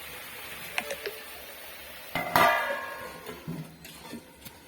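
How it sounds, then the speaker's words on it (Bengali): A metal lid clangs off a pot of fish-head curry, followed by a spoon scraping and tapping as the thick mixture is stirred, close and moderately loud with sporadic clinks. "আবারও আমি এটিকে ঢাকনা খুলে এটিকে নেড়ে নেব"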